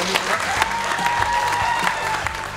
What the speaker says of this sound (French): je crois qu'on peut les applaudir quand même